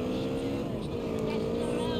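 A motorcycle engine in Grand Theft Auto: San Andreas Definitive Edition hums at a steady, fairly even pitch throughout the short stretch, moderately loud with no sharp changes.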